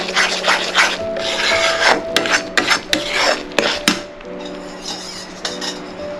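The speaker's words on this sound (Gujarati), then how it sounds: "જો આ છાશ ઉમેરી દઈએ આપણે એમાં અને બરાબર મિક્સ કરી લઈએ." Roasted gram flour being stirred with buttermilk in a pan, giving repeated scraping and rubbing strokes of a utensil against the pan in an irregular rhythm, close and fairly loud.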